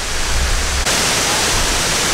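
Dense, steady hiss of the Poceta de Cristal waterfall in Cuba, a constant broadband rush that briefly dips and then carries on, close by with no voices.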